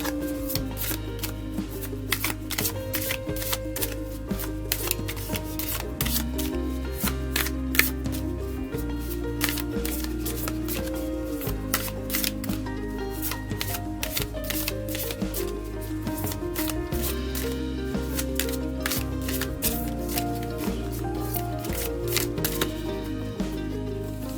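Rapid, crisp riffling of tarot cards repeated over and over, with a steady tonal music bed humming underneath throughout.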